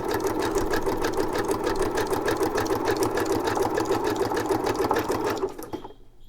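A sewing machine stitches corners on fabric tags with a fast, even rattling whir close up, running steadily before slowing and stopping near the end.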